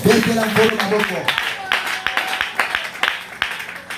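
A church congregation claps and cheers in acclamation, a loud burst of voices fading into rhythmic clapping that continues steadily to the end, with talk mixed in.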